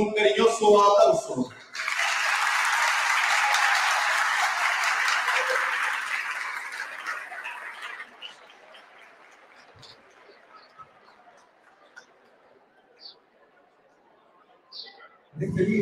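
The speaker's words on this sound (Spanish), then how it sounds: "Recibámoslos con un cariñoso aplauso." Audience applause at a Technical Professional Education Day commemoration, a burst of clapping that starts after a brief voice, stays full for several seconds, then thins out to scattered claps and fades toward quiet before talk resumes.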